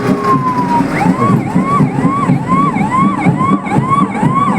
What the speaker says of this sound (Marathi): शहरातील आग नियंत्रित ठेवण्याचं काम हे अग्निशामक वाहन